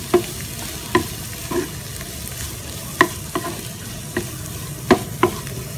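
Chicken samosa stuffing spiced with red chilli powder being stirred in a pan, with a steady low sizzle under a handful of sharp, irregular spatula scrapes and taps close by.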